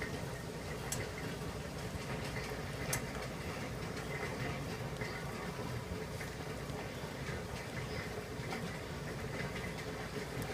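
A pot of homemade jam mixture heating back toward a boil on the stove, giving off a steady, faint broadband bubbling and hiss with no pauses throughout.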